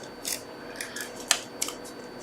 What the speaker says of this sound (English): And there's one last flower there, so I will cut it out.